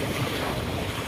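Sea waves at the shore, a short stretch of steady rushing surf mixed with wind buffeting the microphone, close and fairly loud.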